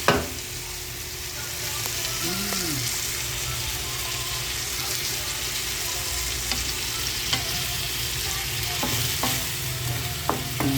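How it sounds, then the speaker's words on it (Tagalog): Ground black pepper sautéing in a pan for a Filipino stir-fry of takway, a steady sizzle with occasional stirring clinks and scrapes, some running water in the background, no talk. "Tapos nito, gisa lang to."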